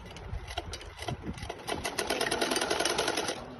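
A sewing machine stitches a salwar, running in a rapid, even mechanical rhythm that starts after a few soft handling noises and then carries on steadily, close and fairly quiet.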